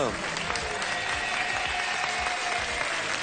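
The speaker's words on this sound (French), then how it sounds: "On applaudit Karine et Guillaume" A television game show studio audience on France 2 applauds the contestants, a dense steady wash of clapping that fills the moment without a break.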